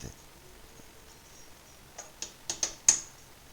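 Keyboard keys tapped while playing a ranch simulator game on a computer: four or five crisp, close clicks in quick succession, growing sharper toward the end, after a near-silent start.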